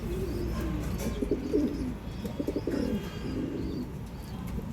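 Female dove or pigeon of an old line kept among birds for sale, cooing in soft low repeated phrases at close range, with faint chirps in the background and no talking.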